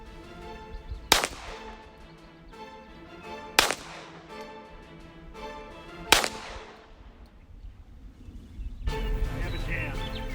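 Slow-fire gunshots at an outdoor shooting match, three sharp loud reports spaced about two and a half seconds apart, each with a ringing decay, followed by a burst of louder rumbling noise as the shooter deals with a jam.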